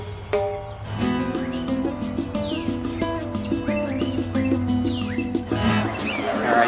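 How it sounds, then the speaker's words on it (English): Small birds chirp and tweet repeatedly outdoors in sunny Solvang, California, their short call sweeps rising over a steady background hum and faint insect buzzing, without any talking. "enjoy the sounds of the birds"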